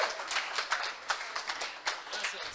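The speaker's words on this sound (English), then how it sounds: "Round of applause, please." A conference audience gives a short round of applause, individual claps distinct and fairly sparse, moderately quiet in a large room.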